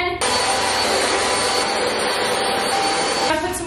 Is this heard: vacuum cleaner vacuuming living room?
yes